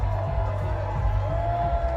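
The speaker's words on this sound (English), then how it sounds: "You can hear the cheers coming through." A crowd cheering along downtown streets at a Tennessee baseball national championship parade, a steady distant roar of voices and whoops with a faint tone running through it.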